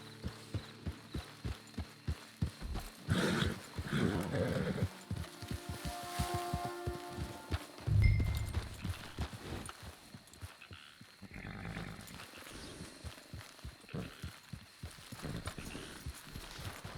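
Steady rhythmic clip-clop of horse hooves trotting close by in the video game Red Dead Online, with a heavy thud partway through and faint background activity around it.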